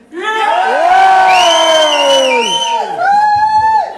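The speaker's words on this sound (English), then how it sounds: "everyone who votes for Thomas, let's have a cheer" Wedding guests cheer loudly together during a dance-off vote, a dense crowd of voices whooping and shouting for about four seconds with a brief dip near the end before surging again.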